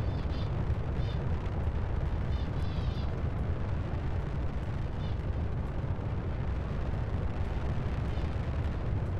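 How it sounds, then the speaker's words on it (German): A continuous, loud rocket engine roar in the video game Kerbal Space Program rumbles steadily throughout, deep and powerful, with faint high chirps flickering above it. "es gibt erstmal einen lauten Knall und die Rakete startet wieder in Lüfte."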